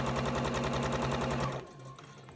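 A sewing machine runs steadily, stitching strips of patchwork fabric with a fast, even mechanical chatter close by, then slows and stops near the end, leaving a quiet hum.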